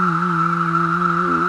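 A steady, droning buzz with a strong sustained tone, continuous and loud throughout, from a dense chorus of periodical cicadas with no breaks.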